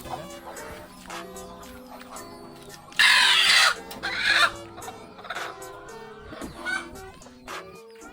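Country chickens on a farm cluck and call intermittently through the clip, with a louder burst of flapping or squawking noise midway, all at moderate distance.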